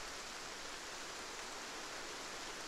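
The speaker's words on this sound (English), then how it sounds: "oh, it's obviously raining." Rain falls in the video game Fragmented as a faint, even hiss with no breaks and no voices.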